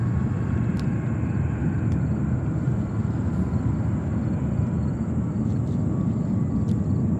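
A jet airliner takes off at JFK Airport in New York, a loud, steady roaring rumble that holds unbroken from start to finish with no voices.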